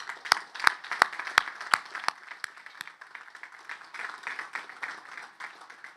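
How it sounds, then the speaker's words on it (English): An audience at a West Point graduation ceremony applauds the cadets' families: a few sharp, scattered claps at first, then steady, dense clapping from a large crowd filling the room. "Let's give them a round of applause."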